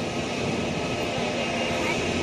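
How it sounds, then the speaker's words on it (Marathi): A SpiceJet airliner landing near Mumbai's airport by Kurla, a steady broad roar of jet engines that stays constant and fairly loud throughout, heard from a hillside viewpoint. "हा लँड झालेला आहे आता इथे स्पाइस जेटचा"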